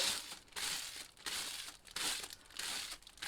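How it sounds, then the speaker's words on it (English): A plastic sheet is crumpled and folded by hand in close, crisp crinkling bursts that come in about five waves, with nobody speaking. "So I'll fold it this way for now, so it gives you this kind of texture on your plastic bag."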